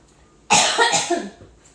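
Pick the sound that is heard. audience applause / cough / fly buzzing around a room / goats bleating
cough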